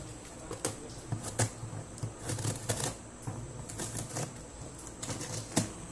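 A blade slices through the tape of a large Flipkart shipping box holding an ASUS ROG Strix laptop, producing irregular close scratchy rips and taps in short bursts, with no talking.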